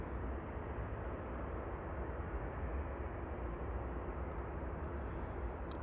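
A Qatar Boeing 777 or Airbus A380 departing Manchester Airport, its jet engines a broad, steady low roar heard from a distance with no voices over it.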